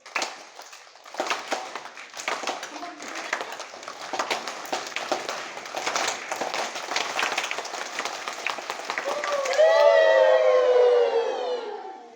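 Schoolchildren at a primary school perform a rhythmic 'train clap', many hands striking in a steady chugging beat that builds. The claps end in a loud chorus of young voices imitating a wavering train whistle.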